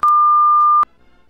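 A single steady censor bleep, a loud pure tone lasting just under a second, cuts in abruptly over speech, then gives way to faint background noise.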